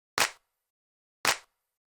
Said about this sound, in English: Next thing in here is the clap,